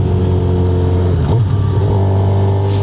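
A Suzuki GSX-R 750 motorcycle engine runs loud and steady close by, its drone dipping and rising briefly midway as the revs shift, with no talk over it.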